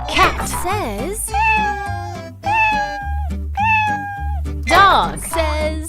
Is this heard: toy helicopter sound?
no